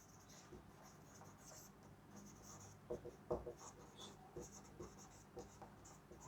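Chalk or marker tapping and scraping on a board during an engineering lecture on stresses in composite bars, a run of short scratchy strokes at moderate distance, fairly quiet, with no talk over it.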